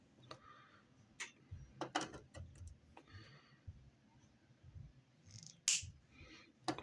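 Snips cut a small piece of 14-gauge half-round design wire for making a buckle, giving a few sharp, close metallic clicks and snaps spread over a quiet background.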